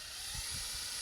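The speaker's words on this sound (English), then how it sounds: "I'm using my 7/32 drill here to drill that out" A steady, high-pitched whine of a small drill with a 7/32 bit boring through a recycled plastic landscape border, running continuously for the whole moment, with no voices.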